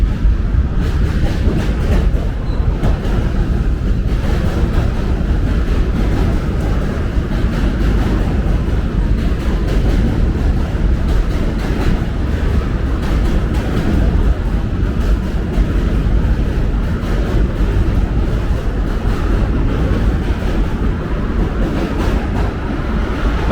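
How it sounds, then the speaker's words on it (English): A New York subway Z train rumbles across a bridge into Williamsburg, Brooklyn, a loud, steady roar of wheels and cars with rhythmic clatter lasting over twenty seconds. "That was the Z train."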